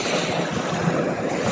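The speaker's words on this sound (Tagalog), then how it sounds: "Parang lumakas ang alon ngayon" Surf breaking and washing ashore at high tide on a Philippine beach, a steady loud rush of waves with wind buffeting the microphone throughout, no voices.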